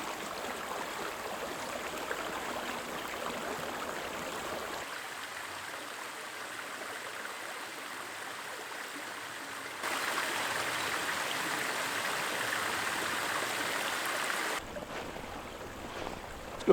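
A winter creek at a nature reserve runs with a steady broadband rush of flowing water, moderately close and unbroken, growing slightly brighter toward the end, with no voices.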